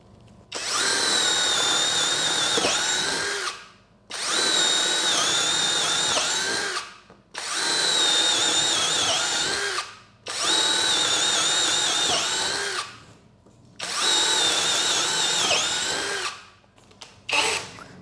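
A Bull BL26Li cordless brushless drill with a 10 mm bit bores at speed 2 in five sustained whirring runs of two to three seconds each, loud and close, separated by short pauses.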